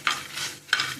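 Vegetables with garlic and chilli fry and get stirred in a pan for a potato and drumstick gravy, with two short bursts of sizzling and scraping close by and no talk.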